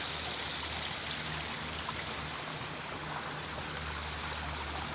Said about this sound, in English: we found this cool little area down in the middle of the CBD that has waterfall.